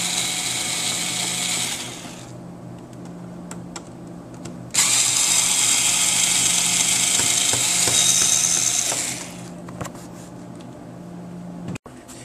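Electric screwdriver or drill backing screws out of a PS3 RF board during a yellow-light repair, two separate whirring runs, the second longer, close and steady with a small click near the end and no talk.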